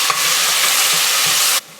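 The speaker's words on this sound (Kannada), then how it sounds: "ಜೀರಿಗೆ ಹಾಕಿದ್ಮೇಲೆ ಈ ಮಸಾಲೆನ ಹಾಕಿ ಈ ಹಸಿ ವಾಸನೆ ಹೋಗೋ ತನಕ ಇದನ್ನು ಹುರಿಬೇಕು" Spice masala roasts in butter with cumin for pudina pulao, a loud, close, continuous sizzling hiss with soft stirring scrapes that cuts off abruptly.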